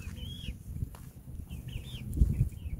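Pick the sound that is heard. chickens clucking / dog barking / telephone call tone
chickens clucking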